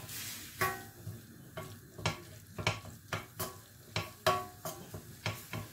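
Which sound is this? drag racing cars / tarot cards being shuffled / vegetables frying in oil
vegetables frying in oil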